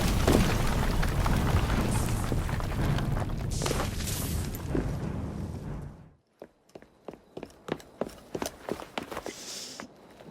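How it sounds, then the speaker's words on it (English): A dense, loud rumbling blast from a detonated Piece of Eden in Assassin's Creed Syndicate fills the first six seconds, then drops away into a sparse series of sharp, separate impacts or footsteps. "What was that explosion?"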